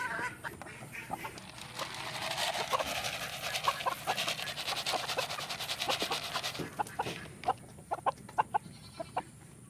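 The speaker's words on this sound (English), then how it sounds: "This is a beautiful set of 4 hens and a beautiful rooster." Silkie chickens, hens and a rooster, cluck and chatter nearby, a busy mix of soft hen calls that thins out into scattered, separate clucks toward the end.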